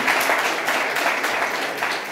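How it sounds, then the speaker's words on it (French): Dense applause from the audience at a ministerial meeting on artificial intelligence, a steady wash of many hands clapping at once, loud and sustained without a break. "On peut les applaudir."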